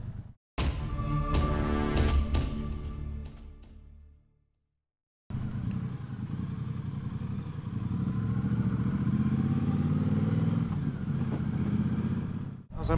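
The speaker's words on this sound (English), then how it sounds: "today we're out on the 2022 Triumph Bobber Goldline Edition" A 2022 Triumph Bobber Goldline Edition motorcycle riding near a village in the Lakes, with a loud, steady engine drone that cuts out briefly, then returns as a sustained rumble with road noise.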